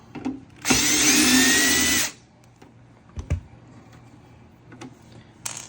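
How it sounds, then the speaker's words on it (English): A screw gun whirs in one loud, steady burst of about a second and a half while backing screws out of a Theyer countertop ice maker, followed by a few faint clicks and taps. "Recommend a screw gun."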